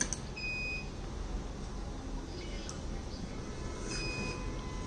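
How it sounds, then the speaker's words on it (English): An ultrasonic blind stick located by RF remote emits a few short, clear electronic beeps, repeating in pairs over a low background hum, with no speech. "So you'll get the beeps."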